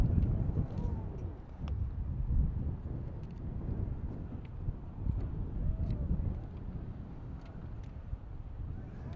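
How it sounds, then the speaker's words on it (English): Low, rumbling wind buffets the microphone atop a football press box continuously, a dense blustery roar with faint knocks and distant voices underneath. "a little bit windy on the top of the press box"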